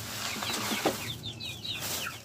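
Chickens clucking and calling repeatedly at their feeding time, with short bird chirps and some wing flapping over a steady low background hum.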